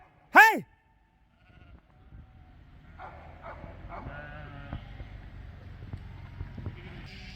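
A freshly shorn sheep on a hilly New Zealand farm gives one loud, close bleat, then quieter bleats, shuffling and dog barks follow across the hillside.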